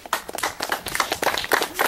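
A small gathering of people claps for a town mayor and an engineer at a local meeting of authorities and workers, a short burst of scattered, uneven hand claps, close and moderately loud.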